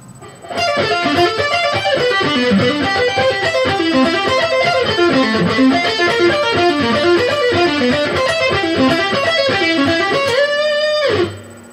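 A fast distorted electric guitar lick of arpeggios, rapid notes cascading up and down, played solo and loud, ending on a ringing final note.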